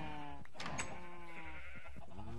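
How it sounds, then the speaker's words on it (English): Sheep in the Minecraft video game bleat several times in quick succession, clear harmonic calls close up, with a brief click of game sounds in the middle. "Kept a sheep, didn't we?"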